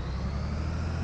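A new truck's engine runs in the World Truck driving game, a steady low diesel drone at even volume for about a second with no talking.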